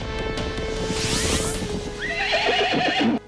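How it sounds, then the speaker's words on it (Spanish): Horses ridden by pursuing soldiers gallop with a steady drumming of hooves while a horse whinnies loudly near the end, all over a dramatic sustained background. "¡Los soldados de a caballo nos persiguen!"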